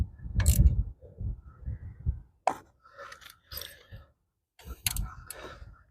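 Hand ratchet tightening bolts on a 4.7 Dakota water pump, giving short bursts of rapid clicking with pauses between strokes, close by in a quiet garage.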